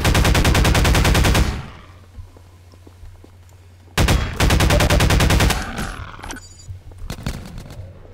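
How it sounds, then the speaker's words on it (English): Loud rapid automatic gunfire from Half-Life 2 Episode 2 comes in two sustained bursts, each more than a second long, separated by a lull. Softer scattered shots and clatter follow, and no one speaks. "Who's shooting?"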